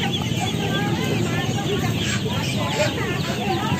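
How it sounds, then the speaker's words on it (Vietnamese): Many ducklings peep and chirp in a busy chorus over crowd noise and nearby voices at a livestock market in Cao Bang, Vietnam, a dense, continuous cheeping from close by. "một dãy toàn vịt con là vịt con các bạn ơi"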